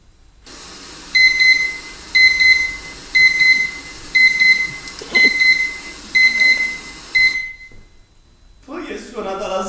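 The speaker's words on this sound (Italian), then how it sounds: "Suonata la sveglia" An alarm clock rings in repeated electronic beeping bursts, about eight evenly spaced pulses, fairly loud, then stops abruptly; a voice begins speaking right after, in a theatre performance setting.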